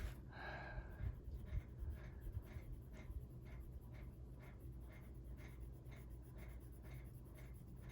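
A black colored pencil strokes across paper in short, repeated scratchy passes, close and fairly quiet, drawing a blonde-hair portrait with a gelato background, with no talk over it.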